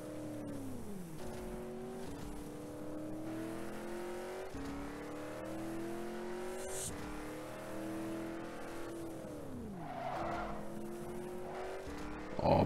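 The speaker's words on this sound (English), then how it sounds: "Oh, beautiful drift." A 2017 Ford GT Custom drifting in the racing game Rebel Racing: a loud engine repeatedly revs up through gears and drops back, with a tire squeal mixed in.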